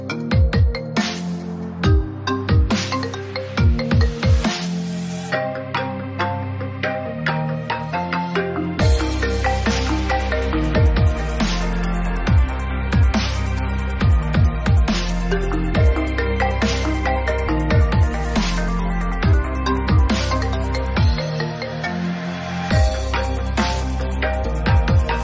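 The iPhone 8 ringtone plays loud and clear on its own, a bright repeating electronic melody of plucked tones that starts sparse and fills out into a fuller looping pattern with a steady bass underneath.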